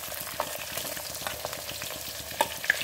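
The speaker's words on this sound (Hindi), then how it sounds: "इसके बाद में हम इसमें डालेंगे 1 मीडियम साइज की प्याज को बारीक कट करके" Finely chopped medium onion frying in oil with asafoetida, a close, even sizzle punctuated by rhythmic spoon stirring and a few sharper scrapes.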